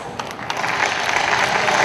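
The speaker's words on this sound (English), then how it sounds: "Let's all give him a warm round of applause." Audience applause after a speaker is introduced at an international business summit, a broad steady wash of clapping that holds and slightly swells across the moment with no talking over it.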